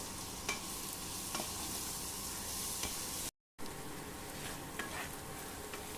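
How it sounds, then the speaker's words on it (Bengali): Onions frying in a pan for mutton doi roast, a close continuous sizzle with occasional stirring scrapes, broken by a brief moment of silence. "পেঁয়াজটা বেশ ভাজা ভাজা হয়ে গেছে।"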